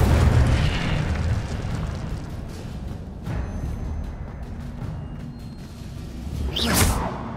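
An Incendio fire spell burst in the Hogwarts Legacy video game, a loud roaring explosive blast with a long rumbling tail that swells again into a second whooshing flare near the end.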